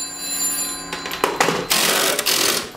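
A telephone rings in the background, with repeated bursts of bright, buzzy ringing rising and falling over a steady hum. No one speaks.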